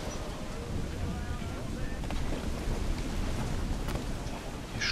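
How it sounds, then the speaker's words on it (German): A storm rages in Assassin's Creed IV Black Flag, with a dense, steady wash of heavy rain and wind aboard a ship, loud and continuous throughout, with faint thunder rumbles underneath. "Der Sturm müsste auch bald vorbei sein."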